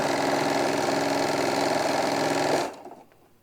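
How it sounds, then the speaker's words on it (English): A sewing machine runs in one fast continuous burst while stitching a pleat on a hobo bag at a quarter-inch seam, loud and close, then stops abruptly. "We're going to go ahead and put our right sides together and get our pleats sewed."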